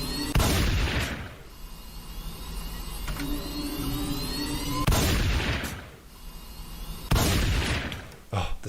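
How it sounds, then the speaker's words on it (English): A game gunshot effect fires three separate times, each a loud, sharp, broadband burst with a short tail, set over a steady hum of background game sound. "Oh, the gunshot is way too loud."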